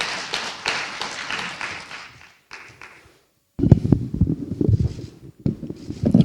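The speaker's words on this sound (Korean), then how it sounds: "큰 박수로 환영 부탁드립니다." Audience applause welcoming a keynote speaker at an academic conference, first a dense round of clapping in the hall that fades out, then after a brief silence a closer, uneven patter of handling noise and taps.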